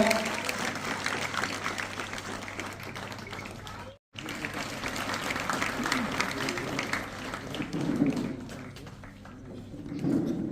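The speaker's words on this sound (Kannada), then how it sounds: "ಜೋರಾಗಿ ಚಪ್ಪಾಳೆ ತಟ್ಟಬೇಕು" Students at a Maragur residential school applaud a visiting judge, a dense, steady patter of many hands that runs throughout with a brief dropout and murmuring voices mixed in.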